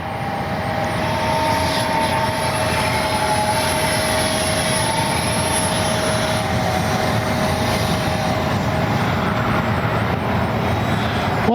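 Twin 40mm electric ducted-fan F-22 Raptor RC jet flying overhead, a steady loud whine with a high tonal note holding across the pass, continuous and close with no voices.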